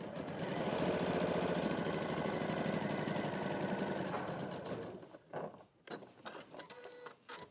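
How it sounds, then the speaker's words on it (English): Sewing machine running a seam at a lengthened stitch setting, a steady loud whirring hum for about five seconds, then stopping and giving way to a few short irregular bursts and handling noises. "I'm gonna lengthen my stitch length so it's not a long-winded process."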